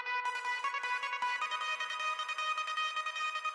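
Alarm sound layer used in a hardstyle remix: a bright, pulsing, siren-like synth tone that wavers continuously for a few seconds, loud and alone.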